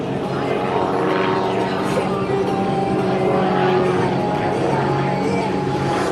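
At an airshow, an aerobatic propeller airplane drones steadily, its engine note shifting as it climbs and rolls through maneuvers, while an announcer talks over it.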